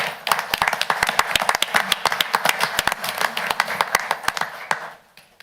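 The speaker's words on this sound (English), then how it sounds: "I think you can all join me in a round of applause for Mr." Scattered claps ring out across a county council meeting room, a modest group of hands producing distinct, fairly close sharp strikes that grow busier and then stop abruptly near the end.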